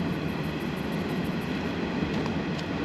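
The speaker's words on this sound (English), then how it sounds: "That's another train going over it now." A coal train crosses a bridge in a steady, dense rumble with faint rhythmic clatter of wheels. The sound is continuous and fairly loud, and no one speaks.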